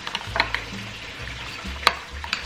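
A spatula stirs beef and vegetables in hoisin, black bean chili sauce and brown sugar in a pan, with a soft sizzle, a few metallic clicks and low thuds.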